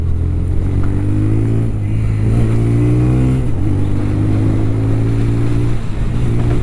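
A TVS Raider 125cc motorcycle cruising at low speed in fifth gear, its engine a steady low hum with slight rises and dips in pitch, close and continuous throughout.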